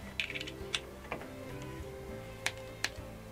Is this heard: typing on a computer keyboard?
yes